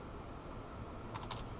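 A quick cluster of soft keyboard clicks near the end, over faint room hiss.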